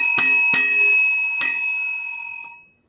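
A bright bell rings three times, two quick strikes then a third after a short gap, each leaving a long metallic ring that fades out, loud and close.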